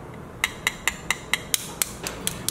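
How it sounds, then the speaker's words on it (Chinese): Several brisk, evenly spaced taps crack the large end of a washed egg, each a sharp close click against the shell, about ten in quick succession with no talk. "把鸡蛋清洗干净，然后把大头给它敲破"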